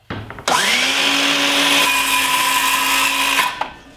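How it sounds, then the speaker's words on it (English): A circular saw spins up abruptly and whines at a steady high pitch for about three seconds while cutting wooden garden stakes, then winds down; loud and close. "I'm going to just cut these with a circular saw."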